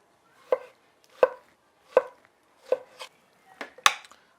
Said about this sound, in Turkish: Domatesleri de yine küçük küçük küp şeklinde doğrayacağım.